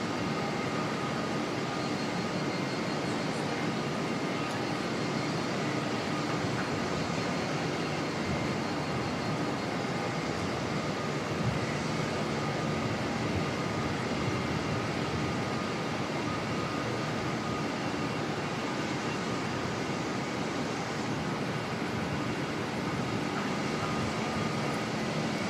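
Aircraft NZ147 departs Auckland Airport for Brisbane, its jet engines a steady broad roar that stays at an even loudness throughout, with no talk.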